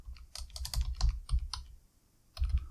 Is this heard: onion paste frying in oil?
no